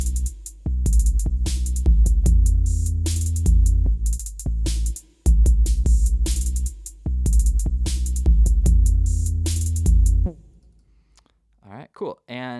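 Bass line from a song plays over a drum groove, deep repeated notes with sharp clicky hits, followed by a brief voice at the end.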